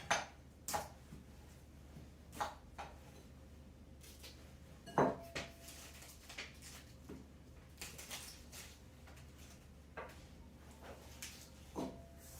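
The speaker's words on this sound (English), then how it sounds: "we're just going to cut them into little chips" A knife chops Brussels sprouts on a cutting board in sparse, quiet, irregular knocks, separated by pauses and light kitchen clatter.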